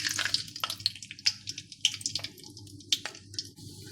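Mustard seeds, fenugreek and peppercorns crackle in hot oil left from frying okra, giving off quiet, scattered pops and spits at an uneven rhythm over a low background hum.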